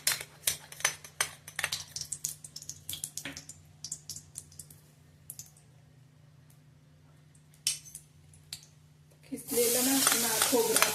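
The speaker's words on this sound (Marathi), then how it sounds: "तर कढई गरम झाले, आता ह्यात आपण तूप घालून चांगलं गरम करून घेऊया।" Ghee heats in a hot kadhai, breaking into a loud, close sizzle only in the last second or so. Before that come scattered light clicks and utensil clatter, then a quiet stretch.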